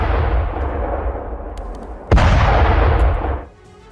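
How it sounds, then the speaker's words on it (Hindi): Explosions from a drone strike on residential buildings in the Russia-Ukraine war: a loud sustained blast roar, then a sharp second detonation that rumbles on before cutting off abruptly, close and powerful. "तस्वीरें आप देखिए इस हमले के बाद किस तरह से यहां धमाका होता है"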